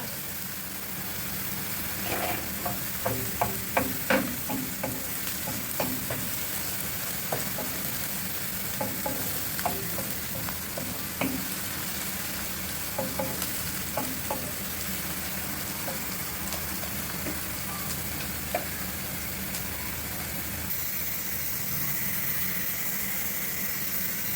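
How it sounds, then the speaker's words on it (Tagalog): Onions sautéing in a pan for a Lebanese baby okra dish with tomato and lamb, a steady sizzle with repeated sharp stirring clicks and scrapes throughout. "Igigisa nyo lang siya."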